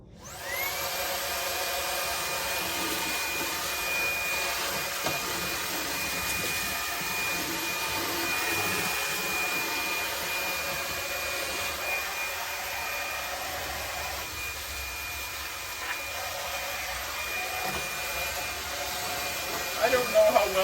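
A Ryobi One+ jobsite hand vacuum runs steadily for about twenty seconds, a close, constant whirring motor whine with a high-pitched tone, with no change in pitch.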